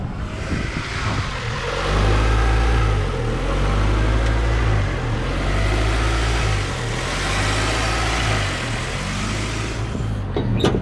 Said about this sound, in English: we can open up the hood here and listen to it run on the 0W8 after a prolonged drive